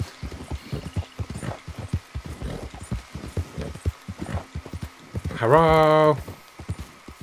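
A horse's hooves clip-clop at a walking pace in Red Dead Redemption 2, with someone speaking over the steps and a brief loud whinny near the end.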